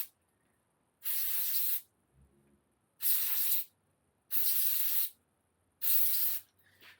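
Four sharp bursts of aerosol valve spray blasting muck from a Giant Stance bicycle, each hissing loudly for under a second, separated by quiet pauses.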